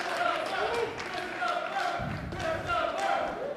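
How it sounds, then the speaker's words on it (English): Wrestling fans cheer for a referee at a live show, a crowd of voices shouting and chanting continuously with a thump from the ring partway through, a commentator talking over it. "Fans cheering for Ref Christopher."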